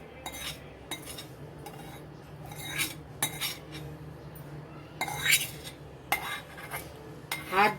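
A spoon scrapes and clinks against a metal pot of hot sugar syrup in repeated strokes, close and moderately loud, with faint speech in the background.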